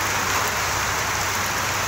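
Heavy rain pours down in a steady, dense hiss that fills the whole moment without pause, loud and close, with no voices.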